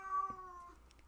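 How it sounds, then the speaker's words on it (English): A cat meows once, a short, soft, tonal cry that is fairly faint against a quiet indoor background. "Someone's meowing at me."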